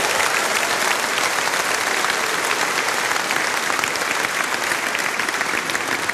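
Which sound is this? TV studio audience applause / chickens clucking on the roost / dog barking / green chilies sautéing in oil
TV studio audience applause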